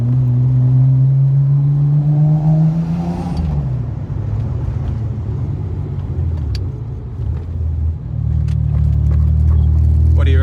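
Nissan Skyline R31 with a non-turbo RB30 engine and stainless straight-pipe exhaust, revving loudly up then dropping back to a deep, steady rumbling idle, close by and alone.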